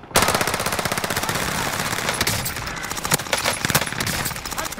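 Rapid automatic gunfire from a video game clatters continuously, dense rattling bursts with a few louder shots standing out, close and loud without talk.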